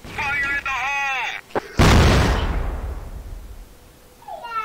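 A grenade goes off in Counter-Strike: a sudden loud blast with a broadband burst that decays over a couple of seconds, preceded by voiced radio-style callouts and followed by faint game sounds.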